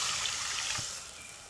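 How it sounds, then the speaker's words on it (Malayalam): Water is poured into a pan of curry being cooked in a village kitchen, making a steady splashing trickle that fades slightly toward the end, heard up close. "ആവശ്യത്തിന് വെള്ളം ചേർക്കുകയാണ്"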